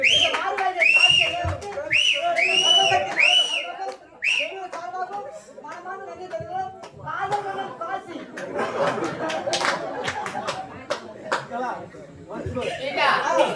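Audience whistles and shrill cheers ring out at a Tamil stage drama comedy performance, looping whistles rising and falling over lively crowd chatter and talk.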